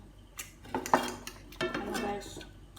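Metal utensils clink and scrape against a plate and pan as pancit is served, several distinct close clatters spread through the moment, no talk over them.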